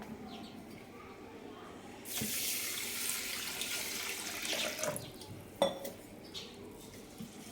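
Tap water runs into a pressure cooker as rice is washed. The quiet stretch breaks into a loud gush of water with light clinks of metal. A voice speaks faintly underneath.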